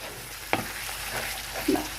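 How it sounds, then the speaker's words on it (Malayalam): Prawn masala with garam masala fries in a pan under a steady close sizzle, with a couple of soft stirring knocks. "നന്നായിട്ട് ഇളക്കി കൊടുക്കുക."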